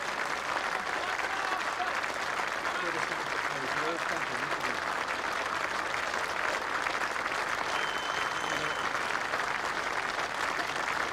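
A cricket crowd and teammates applaud a batsman after a long innings, producing a steady, even wash of clapping that holds throughout, with a commentator's voice speaking over it.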